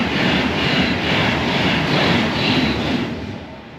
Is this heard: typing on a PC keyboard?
no